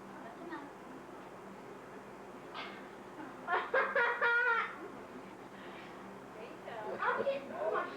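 Scooter, a pet bird, gives a few short bursts of squawks and chatter at close range, mixed in with people talking quietly nearby.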